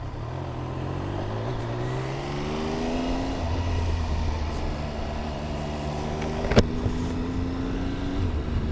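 Triumph Trident 800 three-cylinder motorcycle riding on a commute, a steady smooth engine drone with rising and falling revs as it shifts through gears, heard close under constant road and wind noise, with no talk.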